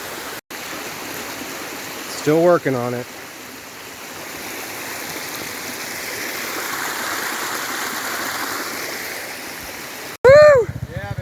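River water rushes steadily through a flooded ravine in Laos around a motorcycle partway across, with brief voice and engine bursts over the constant flow.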